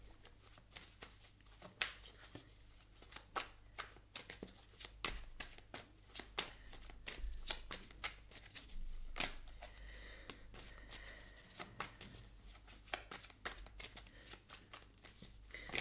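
Tarot cards are shuffled and drawn by hand, a long run of quick, close papery riffles and flicks in uneven bursts, with no talking.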